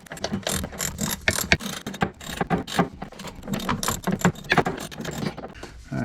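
A socket ratchet works loose a 13mm bolt on a 2021 SeaDoo GTI jet pump, with rapid, close clicking pawl strokes in uneven bursts and no talking.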